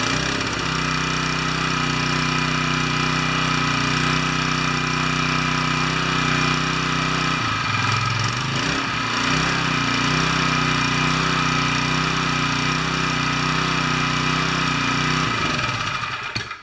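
A gasoline engine on a pressure washer runs steadily, loud and close, with a constant droning rumble and a brief dip in pitch midway before returning to an even idle.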